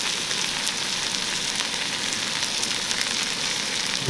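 Food sizzles steadily in a hot pan under a press, a dense, even frying hiss with faint crackles, close and continuous with no talking.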